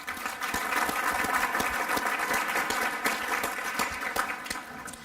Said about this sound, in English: Please give them all another round of applause.